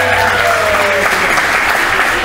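Wedding guests give a loud, sustained round of applause at a reception in Branford, Connecticut, a thick continuous wash of many hands clapping, with faint voices and cheering mixed into the crowd noise.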